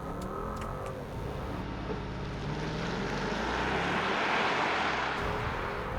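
A 2022 Maybach S580 launching hard under launch control, its engine note swelling steadily over several seconds, with a broad rush of road and wind noise building around it.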